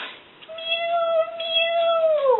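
A single drawn-out, high meow, like a kitten in a basket, rises, holds steady for nearly two seconds and bends downward at the end, close and clear.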